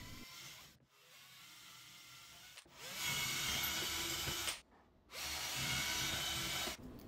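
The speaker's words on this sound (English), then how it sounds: "Drill holes through the shelf and scrap wood." A power drill bores holes through a wooden shelf clamped to a piece of scrap wood, running in four loud bursts of steady whine separated by short pauses and rising in pitch as it bites into the wood.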